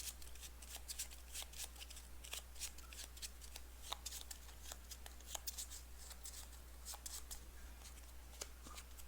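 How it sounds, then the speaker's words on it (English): Arkham Horror card game deck being shuffled and cards drawn, a steady series of soft, rapid riffling and snapping card sounds, close and fairly quiet, with no talking. "Draw the top card of the Tekalili deck."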